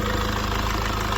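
Mercedes W204 engine idles smoothly and evenly, a steady close-up rumble with a fine regular pulse, alone without voices.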